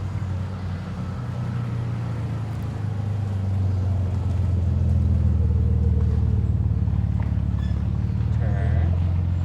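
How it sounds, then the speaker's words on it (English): A car passes on a road outdoors with a low, swelling engine rumble that grows louder and holds steady under wind and background noise, fairly near. "Let this car go by."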